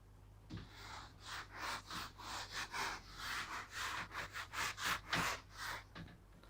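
Rhythmic back-and-forth rubbing of an eraser or duster across a board, wiping out part of a drawing in a waterflooding lecture, with a steady series of close strokes and no speech.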